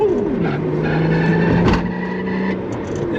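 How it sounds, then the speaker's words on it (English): Engine droning while a tyre on a lowered Japanese wagon rubs and scrubs against the inside of the wheel arch, a steady grinding drone with a brief sharper scuff midway. "that's the tyre scrubbing on the inside of the arch"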